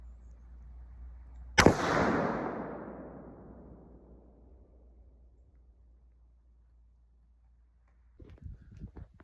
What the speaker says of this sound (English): We're going to shoot it, see how that goes.